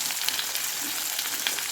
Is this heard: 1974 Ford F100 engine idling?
no